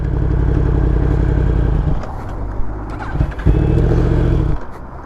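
A sport motorcycle rides on port roads at Gennevilliers, its engine loud and close with a steady drone that drops off and then revs back up in bursts before easing away, with no talk.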